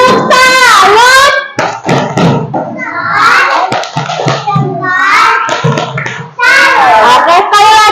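Classroom of young children in an Indonesian primary school doing a rhythmic clapping chant, bursts of loud hand claps in patterned sequence between a teacher's spoken lines, close and lively.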